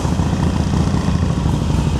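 A 2020 Harley-Davidson Iron 1200 with about 5,000 miles, fitted with a Vance & Hines exhaust, running at a steady, loud, deep idle just after starting up. No talking is heard.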